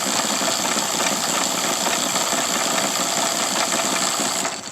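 The gears of an NV4500 manual transmission spin freely on the main shaft in neutral, giving a steady, dense mechanical whir and hum that holds at an even level throughout, with no voices.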